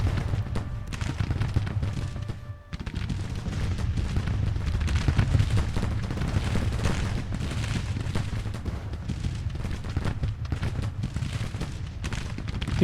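Rifle volleys and artillery fire in the Civil War strategy game Grand Tactician, a dense, continuous rumble of distant booms and crackling musketry with no pauses.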